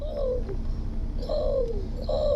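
A person imitates a pigeon's coo inside a vehicle, giving three soft, rolling coo phrases in a steady rhythm over a low engine rumble, close to the listener.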